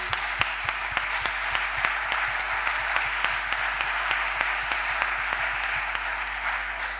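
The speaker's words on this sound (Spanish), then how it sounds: "por favor, también se merece un aplauso" Audience at a World Day talk applauding warmly: continuous, even clapping with some sharper individual claps standing out, over a low steady hum.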